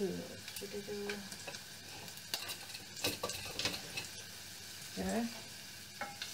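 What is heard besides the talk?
garlic and onions sautéing in a pan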